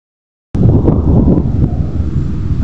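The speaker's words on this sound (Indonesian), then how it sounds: "Ini angin kencang di sini." Strong wind buffets an outdoor microphone in Jayapura, a loud continuous low rumble with gusty swells that starts abruptly after a brief silence and never lets up.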